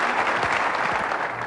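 Dense, steady applause from a theater audience at a 2003 televised Democratic presidential debate in Phoenix's Orpheum Theatre, a continuous wash of many hands clapping with no voices standing out.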